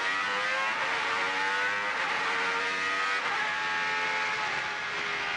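A Renault Espace F1 pulling away in first gear on a damp race circuit, its loud, dense engine roar climbing steadily in pitch as it accelerates, close and continuous with no voices.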